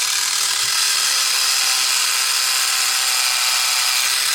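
An Adams Swirl Killer Pro micro polisher whirs continuously, a steady high-pitched mechanical buzz that stays constant and close throughout with no talk.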